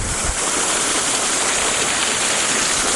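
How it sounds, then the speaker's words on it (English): A waterfall rushes loudly and continuously at close range, a dense unbroken roar filling the whole stretch. "Waterfall's ripping pretty good."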